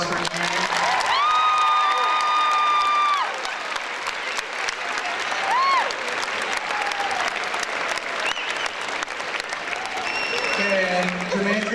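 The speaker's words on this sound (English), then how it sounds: "can we get a round of applause for Jermaine?" A school assembly crowd at Mount Vernon High School applauds Jermaine Kearse with loud, sustained clapping, plus whistles and cheering voices woven through the full-room ovation.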